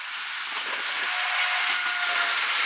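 A Class 175 passenger train passes a level crossing at Deganwy Quay, a steady close rumble and hiss of wheels on rail with a faint tonal whine, no talking.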